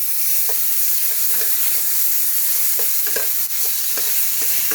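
Grated mango stirring in a hot pan, a constant bright frying hiss with regular soft scraping strokes of the spoon, close and fairly loud, no voices.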